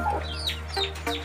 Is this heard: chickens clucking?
yes